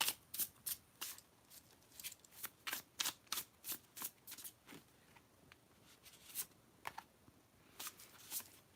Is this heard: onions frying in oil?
no